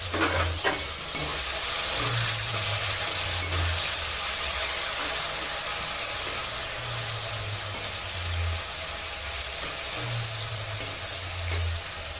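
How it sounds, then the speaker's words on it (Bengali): Prawns coated in turmeric and salt fry in a hot pan, a steady bright sizzle that runs throughout, with a few low thumps of stirring or shifting in the pan. "মাখিয়ে মাছগুলো ভেজে নেব"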